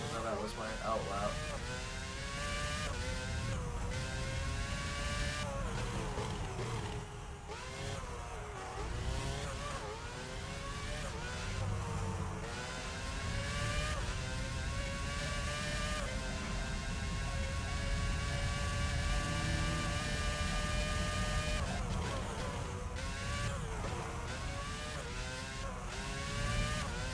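A Formula One race car engine in the F1 06 video game, with the MF1 car mentioned, drones steadily through the whole stretch, its pitch sweeping up and down with the gear changes while someone talks over it.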